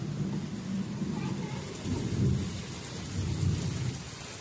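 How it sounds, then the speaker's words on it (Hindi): Steady heavy rain pours down while low rumbles of thunder roll through, swelling twice, no voices. "बारिश तेज हो रहा है"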